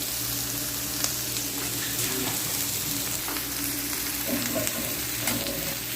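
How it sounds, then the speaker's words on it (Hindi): Chopped onions and green chillies fry in hot oil in a pan, giving a steady, close sizzle and crackle throughout with occasional stirring scrapes and no talk. "अभी इनको जो है ऑयल में भून रहे हैं भाई"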